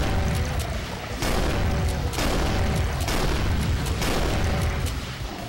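Rockets blast in the shooter Brutal Doom, several heavy booming explosions landing about every second or so, loud and close over a dense rumbling bed of game noise.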